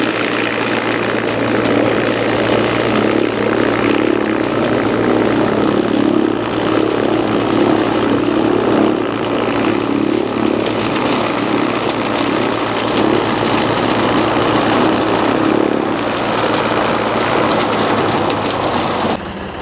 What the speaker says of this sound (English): we'll get on the tractor